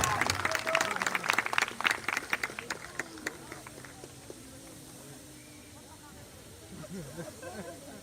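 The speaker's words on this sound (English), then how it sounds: "A nice round of applause for our 5th grade graduates." Applause for fifth grade graduates at a school commencement ceremony, a dense burst of clapping that tapers off after a few seconds into quieter room noise.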